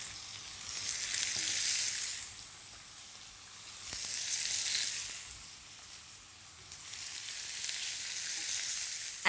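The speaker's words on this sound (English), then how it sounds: "So these can go on the grill now" Zucchini slices sizzle steadily on a preheated grill pan, a loud continuous hiss that swells and eases in waves with no talk over it.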